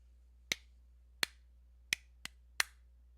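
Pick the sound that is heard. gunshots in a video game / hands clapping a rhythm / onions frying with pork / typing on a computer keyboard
hands clapping a rhythm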